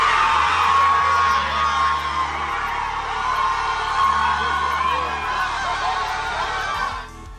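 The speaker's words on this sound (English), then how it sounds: "the crowd went crazy" A packed family NFL draft watch party in Cocoa erupts in loud, continuous cheering, with whoops and shrieks carrying over the crowd noise, close and sustained before fading at the end.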